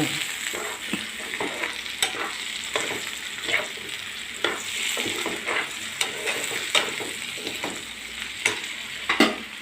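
Onion frying in a pan for a chicken stir-fry, with a steady sizzle broken by repeated scraping strokes of a spoon stirring through it, close and moderately loud with no talking.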